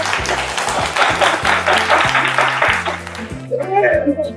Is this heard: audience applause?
yes